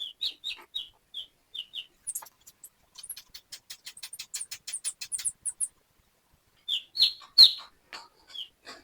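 Young broiler chicks peep in shrill, rapid bursts close by, with short pauses between flurries of chirping.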